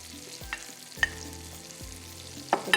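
Tomatoes go into a hot pan for macaroni qeema, giving a low sizzle with a few sharp clinks and scrapes of a utensil against the pan, moderately quiet, with no one speaking.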